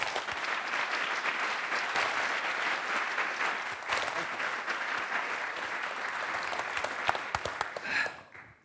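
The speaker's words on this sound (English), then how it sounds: "So please join me to welcome Satya Nadella with a very warm hand applause." An audience at a university talk event welcomes Microsoft CEO Satya Nadella with warm, sustained applause from a large crowd, dense and steady for several seconds before fading out at the end.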